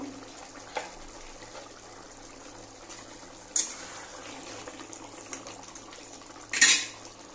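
Metal cooking pot of Bengali-style shankar fish curry lifted off a stove, with a few sharp close clanks of metal against metal over a soft steady background hiss.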